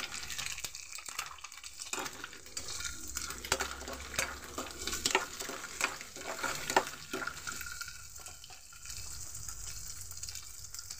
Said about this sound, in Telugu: చూడండి, ఎగ్స్ ఫ్రై చేసుకున్నానండి. ఇప్పుడు కొద్దిగా పసుపు వేసాను.